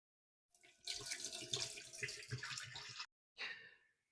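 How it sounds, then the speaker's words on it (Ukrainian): Water pours and splashes from jars into a pot in a short stream, pauses briefly, then a second quick pour follows; quiet and close. "я зараз з баночок зливаю воду у кастрюлю"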